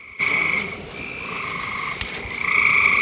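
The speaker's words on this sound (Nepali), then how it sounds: "भ्यागुताहरूको ट्वार ट्वार र टुर टुर" Frogs croak in a steady chorus of overlapping trilling and chirping calls during an overnight outing with friends beside a barbecue fire. The calls come up close, fairly loud and continuous, with no talking.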